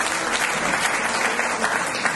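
Strong audience applause at a Marathi business event for a rank achiever, a dense, steady roar of many hands clapping throughout with no voices on top.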